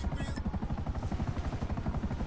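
Helicopter in the video game GTA V, its rotor beating in a fast even pulse, loud and close, with a brief higher whine at the start.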